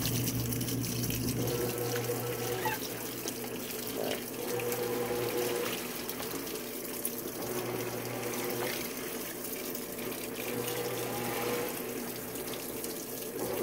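A GE GTW680BS6JWS top-load washing machine agitates a load of jeans and shorts on its jeans cycle, a steady churning swish of water and fabric with a low motor hum running throughout, close and unbroken.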